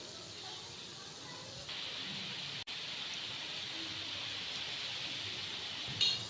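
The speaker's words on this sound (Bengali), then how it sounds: "আর এই মিষ্টিগুলো খুব ধৈর্য ধরে একটু ভাজতে হবে।" Layered flour sweets deep-fry in hot oil with a steady, soft sizzling hiss throughout, briefly broken once and swelling slightly near the end.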